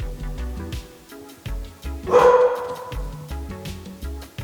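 A dog barks in a short burst close by around the middle, loud against steady background sound.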